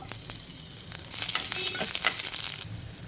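Green and dried red chillies sizzle and fry in hot oil, a steady close crackle that swells louder midway, with faint stirring clicks and no talk.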